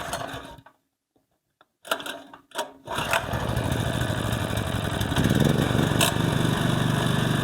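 A small petrol generator that was repaired after only running on choke, started with a pull cord: a few short rattling pulls and sputters, then the engine catches and settles into a loud, steady running drone.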